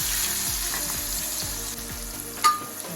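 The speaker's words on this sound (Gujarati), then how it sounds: "મિક્સ કરી લેશું અને આપણા કાંદા અને ટમેટા જે છે તે સંતળા જાય" Chopped onions and two tomatoes sauté in a pan, giving a steady close sizzle broken by repeated scraping stirs, with one sharp clink near the end.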